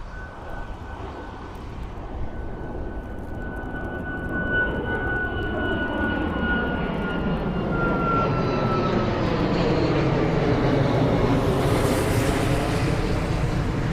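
A WestJet airliner takes off at cold, wintry Toronto Pearson airport (YYZ). The jet-engine roar swells and grows steadily louder, a broad continuous rumble with a rising whine that stays loud to the end.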